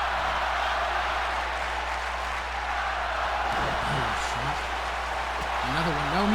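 Arena crowd in a WWE 2K wrestling game, a constant loud roar of cheering and chanting from a Philadelphia crowd, with a commentator talking over it.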